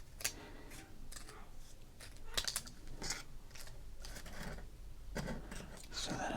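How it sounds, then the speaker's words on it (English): Scissors cut a baseball card in a quiet, close-up setting, making a run of crisp, uneven snips and clicks of varying loudness. "We're going to cut your name off here."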